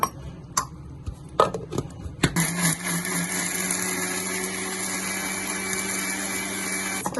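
A kitchen mixer grinder blends chillies with a little water. After a few clinks and knocks it starts up and runs as a steady, loud whirring grind to the end.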